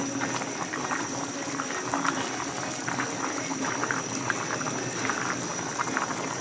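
A pan of fish curry liquid comes to a rolling boil, making a close, continuous bubbling and burbling at a steady level throughout, with no voices over it.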